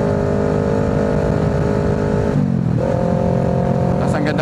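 A motorcycle engine at a speedway holds a loud, continuous drone, dipping briefly as the revs fall before climbing again, with wind noise and a voice speaking over it.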